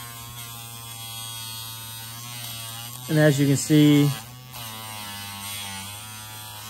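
A WNOKE electric dog nail grinder hums steadily with a buzzing motor tone while being used on a Labrador's nails. Its pitch briefly rises into louder, harsher grinding bursts mid-clip, and a person speaks over it.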